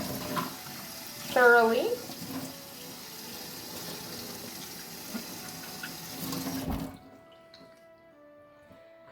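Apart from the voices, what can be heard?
tap water rinsing wet palette parts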